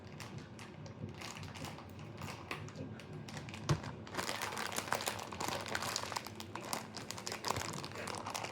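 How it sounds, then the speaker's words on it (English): A plastic bag of cheese crinkles and crackles as it is pulled open in a home kitchen while cooking a pizza casserole, quiet scattered rustles at first, then denser, louder crumpling in the second half. "let me get the bag open."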